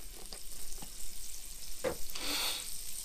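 A knob of butter melts in a hot pan, giving a steady close sizzle with a few soft clicks and stirring scrapes mixed in.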